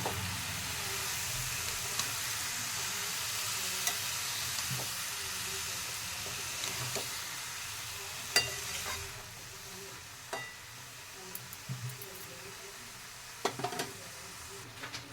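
Radish greens with boiled garlic stirred in a pan over steady sizzling, with scattered clinks and scrapes of the spoon toward the end, no voices.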